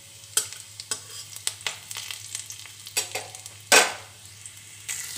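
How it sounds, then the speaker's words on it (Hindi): Garlic lightly frying in a small amount of oil for a veg Frankie roll, a soft steady sizzle broken by repeated scrapes and clinks of a spoon stirring in the pan, close up with no speech. "अब हम इसमें लहसुन को डालेंगे, इसे हल्का सा भुनना है।"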